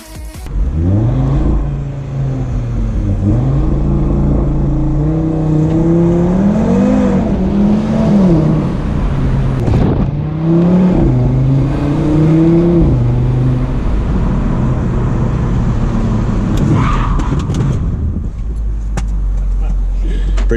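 A 2019 Audi RS3's single-turbo five-cylinder engine revs repeatedly, its pitch rising and falling in surges, loud and close, with people talking over it.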